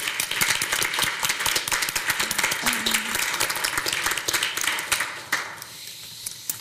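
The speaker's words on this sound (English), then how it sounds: "applause for all of us" A panel discussion audience applauds steadily throughout, dense clapping that holds strong before thinning out near the end.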